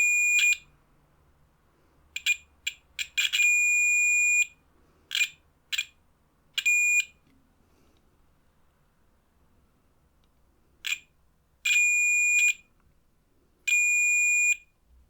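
A DMTECH US133SDB radio under repair gives a series of sharp, loud electronic beeps, some brief and some held for about a second, in irregular clusters separated by quiet.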